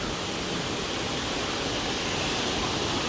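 A steady, dense rush of falling water from Huluganga Falls, a constant roaring hiss with no breaks, heard from nearby.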